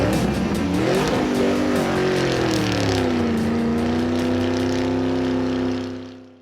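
Race cars at the Winchester 400 roar loud and close, one engine holding a high droning pitch that sags slightly as it passes, then cuts off abruptly.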